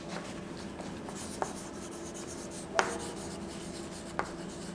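Pen writing on paper during an English grammar lesson, a steady soft scratching rub running throughout with a few sharper taps as strokes start, close by and alone.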